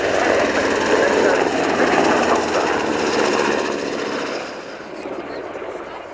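An NH90 TTH helicopter flies its display at the RIAT airshow at Fairford, a loud, steady rotor and turbine roar that eases slightly toward the end.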